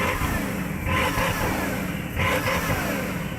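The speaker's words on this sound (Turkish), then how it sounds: "Bu yüzden kesinlikle büyük 16 silindirli dörtlü turbomu çalıştıracağım." Bugatti Chiron Super Sport's 16-cylinder quad-turbo engine running loud and close, with a steady mechanical roar that swells in two brief surges.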